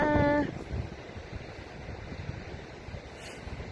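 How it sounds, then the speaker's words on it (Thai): Steady, blustery sea wind on a clifftop rolling across the microphone with a low, rumbling roar, briefly preceded by a voice at the very start. "เสียงลมทะเล"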